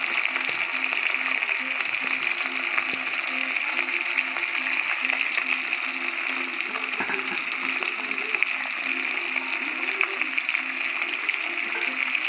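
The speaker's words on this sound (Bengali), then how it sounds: "এই যে তেল গরম হয়ে গেছে, চুনো মাছ আর চিংড়ি মাছটা দিয়ে দিয়েছে কড়াইয়ে।" Small fish and shrimp frying in hot oil in a wok, a steady close crackling sizzle with a faint low hum beneath, continuous throughout.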